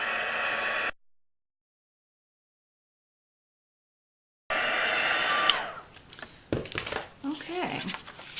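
A heat tool blasts a steady loud rushing roar over a craft star, cutting off abruptly into silence for several seconds, then roaring again before fading into handling rustles and clatter with voices.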